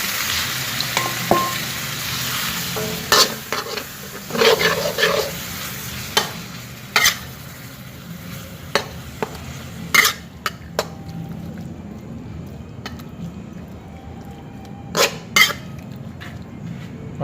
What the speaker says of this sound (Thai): เอาลาบไปคั่วเลย